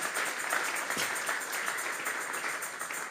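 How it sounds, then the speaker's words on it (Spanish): A church congregation claps steadily together as an offering of praise to God, a dense, even wash of many hands that holds at a constant level for a few seconds. "Vamos a regalarle ofrenda de palmas al Dios de la gloria."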